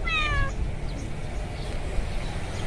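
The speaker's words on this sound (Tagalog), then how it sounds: "bali mag-pipet trans po kami ng Persian cat" Persian cat carried in a vehicle on a highway during pet transport, a single short meow at the start followed by steady low road rumble.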